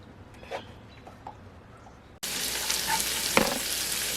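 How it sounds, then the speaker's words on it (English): A quiet hiss jumps to a loud, dense sizzle of bacon frying in a pan, steady and close with a few crackles. "so we've got this bacon almost ready to go. You hear that?"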